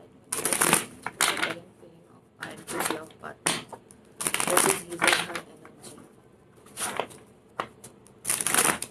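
Tarot cards being shuffled by hand in repeated bursts, crisp riffling and flicking close up, separated by short pauses, with a voice speaking in between.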